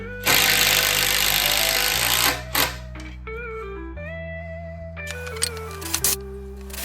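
A power drill drives screws into a wooden workbench frame, its motor whining in steady sustained runs that shift pitch as each screw sinks, with short pauses between bursts.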